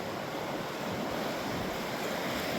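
A river swollen with spring flow rushes past in a loud, continuous broadband roar, close by and unbroken, with no voices over it.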